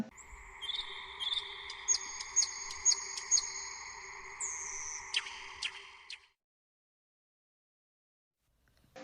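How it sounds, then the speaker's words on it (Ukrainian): A nightingale sings alone, with sustained whistled notes, rising trills and quick sharp pips over a faint steady drone, fairly soft, then silence. "Соловей"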